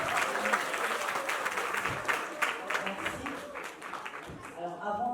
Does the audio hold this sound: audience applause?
yes